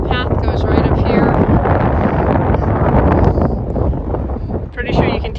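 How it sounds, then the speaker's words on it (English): Very strong wind roars across a mountain trail, buffeting the microphone in loud continuous gusts that swell and ease with no break. "Pretty sure you can tell by the sound of it, but the wind is like crazy strong right now"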